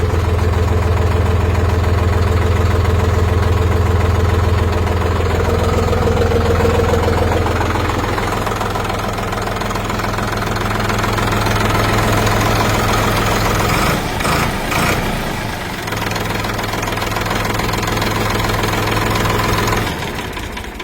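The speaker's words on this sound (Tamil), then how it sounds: "ஸோ இன்ஜின் வந்து நல்லா இருக்குதுங்க." A Sonalika tractor engine idles steadily after starting, a loud, continuous low diesel rumble with a knocking pulse, briefly roughening midway before settling back into an even idle.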